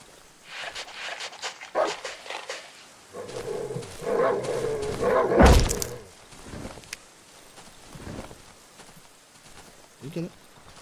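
Dogs barking and whimpering in the horror video game Darkwood, loud close barks in bursts over about ten seconds, mixed with other game noises and someone talking.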